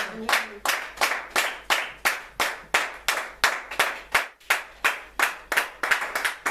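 A church congregation claps in steady unison, sharp hand claps repeating evenly at close range, a few voices faintly underneath.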